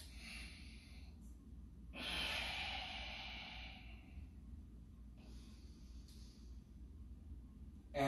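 Slow, deep breathing during a power yoga session: a long rushing exhale swells in the middle and a softer breath follows later, close and quiet over a low steady background hum.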